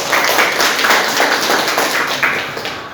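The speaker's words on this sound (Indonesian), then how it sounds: "Tepuk tangan buat Himaesi." Brief burst of audience clapping for a student association at an investment seminar, lively and fairly close, tapering off near the end.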